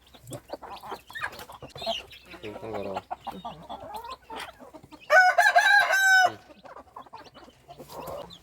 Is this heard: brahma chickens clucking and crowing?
yes